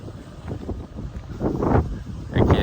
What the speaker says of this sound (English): Nice and windy. Just like we like it. Always windy.